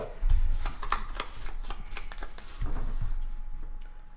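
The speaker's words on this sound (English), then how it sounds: "So we'll shuffle everything." Red and green decks of game cards are shuffled up close, giving a rapid flurry of crisp riffling and slapping that runs steadily for several seconds without speech.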